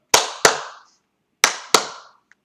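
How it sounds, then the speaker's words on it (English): Fourth-grade students clap a rhythm together in a music class, four sharp crisp claps in two quick pairs separated by a pause, each ringing briefly in the room. "Let's try clapping that one."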